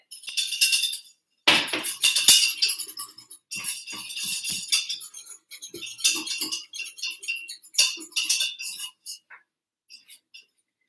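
A whisk scrapes and clinks against a metal pot as flour is stirred for poutine gravy, with busy metallic bursts separated by short pauses, close and fairly loud.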